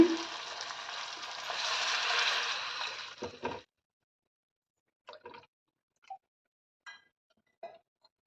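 Water poured into a hot, sizzling pan gives a loud, steady hiss for about three seconds, then cuts off, leaving a few faint clinks and scrapes against quiet.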